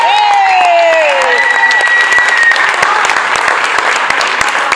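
Concert audience applauding a bass player introduced by a tribute band on stage, loud dense clapping with some cheering filling the whole stretch, a held melodic tone fading out early on.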